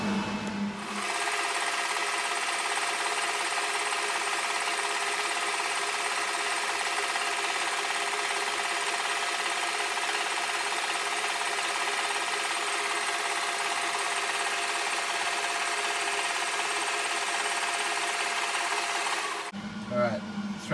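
A metal lathe cuts a thread on a part for a Massport Briggs & Stratton mower repair, a steady close machine whine and hum that runs unbroken for about twenty seconds before cutting out.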